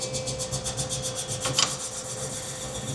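A cutting tool chamfers the top edge of a cylinder bore in a Cummins diesel engine block, giving a steady, fast rhythmic rasping and scraping close by, with a brief louder grinding burst midway and no talk.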